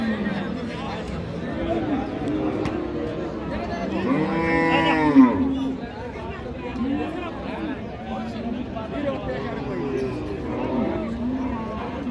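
Cows and heifers suited for fattening low repeatedly at a busy rural cattle market, Ambari haat, one long close moo standing out midway, with steady crowd chatter and talk throughout.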